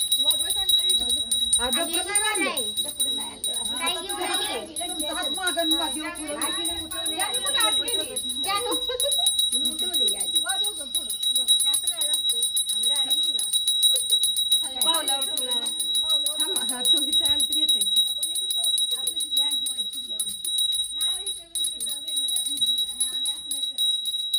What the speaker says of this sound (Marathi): हळदी कुंकू घंटी वाजव